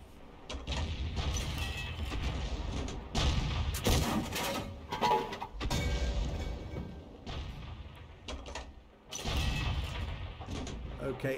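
A leFH18B2 self-propelled artillery gun in a tank game, a few heavy booming shots with rumbling tails and mechanical reload clanks between them, with someone talking over parts of it.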